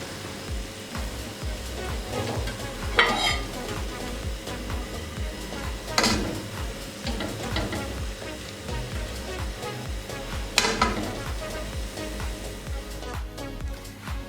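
Cooked mutton yakhni pulao being dished out from the pot, with occasional sharp scrapes and clinks of a spoon against metal over a steady low background hum.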